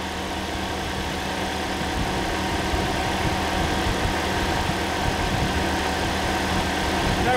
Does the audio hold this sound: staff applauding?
no